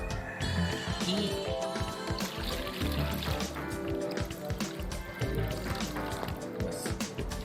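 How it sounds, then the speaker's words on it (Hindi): Water poured into the tray of a hatchpro egg incubator, a continuous trickling fill heard close up amid busy tonal background sounds. "मैं आपको पानी डाल के देखिए दिखा रहा हूँ।"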